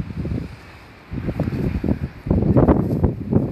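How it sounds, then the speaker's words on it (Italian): Outdoor wind at Polignano a Mare, the Italian seaside town, buffets the microphone in loud, irregular low rumbling gusts that quieten briefly near the start, then return stronger and more turbulent. "Peccato che c'è vento"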